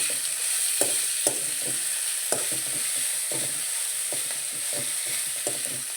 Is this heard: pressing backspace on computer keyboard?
no